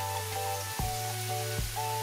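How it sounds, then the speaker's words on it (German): Sigara börek, pastry rolls filled with feta and parsley, fry in a pan five or six at a time. The oil gives a soft, steady sizzle under a faint electrical hum, with a few brief clicks. "packe dann immer so 5-6 Stück in die Pfanne rein"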